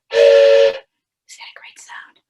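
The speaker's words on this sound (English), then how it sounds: "I may just pick up the whistle and go" A toy train whistle blown once in a steady, bright tone lasting under a second, followed by soft breathy whispering sounds.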